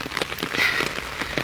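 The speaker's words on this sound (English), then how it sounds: "who's with me walking out here in the rain with an umbrella" Rain patters steadily on an umbrella held by someone walking outdoors, a dense close-up tapping of drops on the canopy with no voices.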